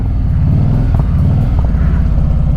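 A 2024 Harley-Davidson CVO 25th anniversary motorcycle cruising on a test ride, its engine giving a steady, loud low rumble that stays constant throughout with no talking.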